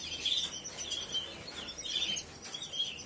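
Pet birds in a home chirping in high, thin repeated tweets, faint to moderate and fairly close, over a soft steady room hiss with no speech.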